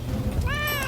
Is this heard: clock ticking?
no